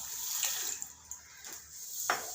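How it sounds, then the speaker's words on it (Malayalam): A glass of water pours onto a kilo of sugar in a pan for passion fruit juice syrup, giving a soft splashing gush with a few brief louder spurts. "ഈ ഒരു ഗ്ലാസ് വെള്ളം ഒഴിച്ച്"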